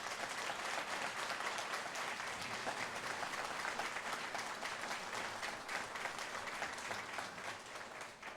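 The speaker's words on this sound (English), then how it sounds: "a round of applause for Diane and her staff." At a building dedication ceremony, an indoor audience gives sustained, even applause that stays steady for several seconds and fades slightly at the end.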